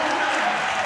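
Indoor college volleyball crowd, Spring Arbor at Taylor, cheering and clapping after a kill, a brief dense burst of applause and voices close by.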